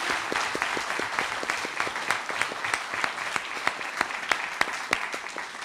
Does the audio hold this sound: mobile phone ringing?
no